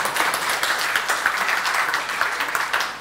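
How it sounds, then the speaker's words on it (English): An audience applauds after a conference talk, dense steady clapping from many hands filling the room throughout. "They're applauding you, Paul."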